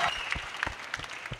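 Audience applause at a live Nakkalites Prime launch event, a brief burst of scattered clapping heard at moderate level with rhythmic hand claps throughout.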